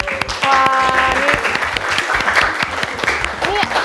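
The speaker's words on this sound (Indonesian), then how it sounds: "Tepuk tangan dulu ya buat semuanya ya" Classroom applause from students for their virus models, steady clapping throughout with a teacher's voice and chatter over it.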